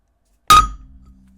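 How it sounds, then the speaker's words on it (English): One sharp strike from a hammer's edge on an Apple Watch Ultra glass screen protector, a bright clinking crack with a brief metallic ring that fades quickly, close up and isolated. "go ahead and try the edge of the hammer."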